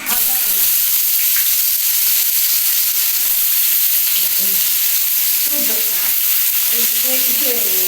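Oil heats and fries loudly in a pan on a Bengali home stove, a constant close hiss and crackle throughout with faint clinks of utensils in the background.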